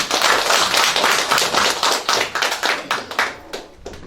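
An audience at a district council member's report meeting in Incheon's Seo-gu claps, a close, dense burst of hand clapping that thins out and fades toward the end.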